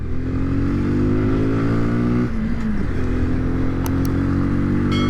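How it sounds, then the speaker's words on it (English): A 2020 Kawasaki Z125 Pro's 125cc single engine strains at full throttle, a loud, close, steady drone that climbs in pitch, dips briefly at a gear change, then keeps climbing. "I'm full throttle and it's just trying to climb"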